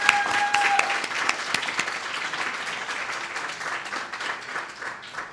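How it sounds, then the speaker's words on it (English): Audience at an annual awareness conference gives a warm round of applause, full clapping that starts strong and gradually softens while staying continuous, with a brief tone faintly audible early on. "let's start off by giving him a big round of applause for doing that"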